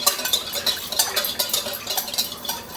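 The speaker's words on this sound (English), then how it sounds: "We'll stir this up here real nice" Spoon scraping and stirring a buttermilk mayonnaise coleslaw dressing in a bowl, a steady rhythm of close, fairly loud clinks and scrapes with no talking.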